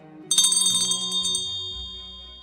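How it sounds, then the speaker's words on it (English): A doorbell chime rings out clearly in a quiet room, a bright bell-like strike followed by descending tones that ring on and slowly fade. "the sound of the doorbell rang out"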